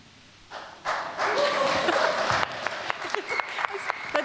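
An audience at a talk bursts into applause that swells quickly, holds as a dense wash of clapping, then thins into scattered claps; a voice speaks toward the end.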